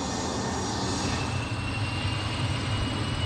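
A jet airplane taking off from a runway, with a loud continuous engine roar that holds steady and dense throughout and has no voices over it.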